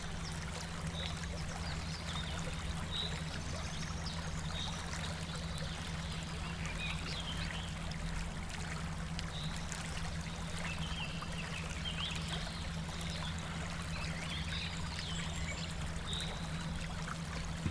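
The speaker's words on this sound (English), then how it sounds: "although the culvert is still passing water, it's plugged very bad" Water flowing and trickling through a badly plugged culvert in a scale-model roadway, a faint steady gurgling stream over a low constant hum, with no talk.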